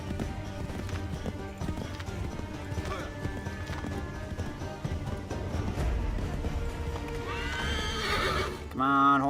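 Hoofbeats of a galloping horse in the video game Assassin's Creed III, a rapid clip-clop under game music, with a neigh near the end.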